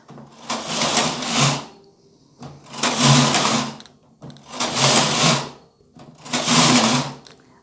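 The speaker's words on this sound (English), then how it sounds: "So I'm just going to keep working like this with my carriage set to KC, my primary color yarn in. I'm going to work back and forth" A punch card knitting machine carriage slides back and forth across the needle bed in four evenly spaced, loud rattling sweeps of about a second and a half each, with brief quiet gaps between passes.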